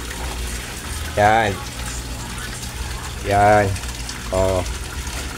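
A Resun aerator pump bubbles air into koi fish water with a continuous fizzing, trickling hiss, while someone speaks briefly over it three times.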